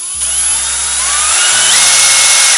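Skil CD1E 3070 brushless cordless drill run by its variable-speed trigger, a loud close high-pitched whine that spins up, holds steady and shifts speed partway through.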